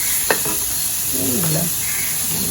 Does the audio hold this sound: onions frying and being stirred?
yes